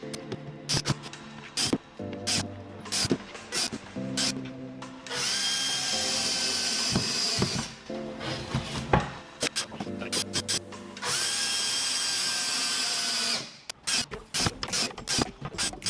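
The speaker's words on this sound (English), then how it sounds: "Now pre-drill and screw just like you did with the funnel to assemble the small drawer." A power drill whirs in two long sustained runs, pre-drilling and driving screws into wood while assembling a small drawer, with clicking, ratcheting and knocking of tools on wood in between, close by.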